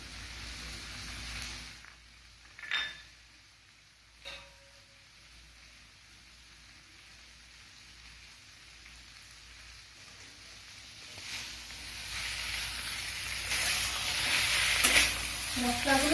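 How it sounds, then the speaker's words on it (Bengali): Spices of ground dried chilli, ginger and cumin stirred into fried cucumber and potato in a pan, a few scraping strokes early, then a sizzle building louder toward the end. "মশলাগুলো আমি সবজির সঙ্গে মিশিয়ে নেব।"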